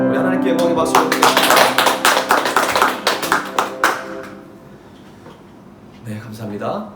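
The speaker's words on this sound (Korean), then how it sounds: "우리 하나님께 영광의 박수 드리겠습니다" A church congregation claps during a Sunday worship service, a run of sharp, rhythmic claps in quick succession that fades out partway through, followed by softer room sounds and a voice.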